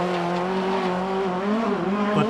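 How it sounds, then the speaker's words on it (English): A Cosworth-engined Mark II Ford Escort rally car screams past at full throttle on a rally stage, its loud, high-revving engine note holding steady and close throughout. "Cosworth engine Mark II Escort is flying"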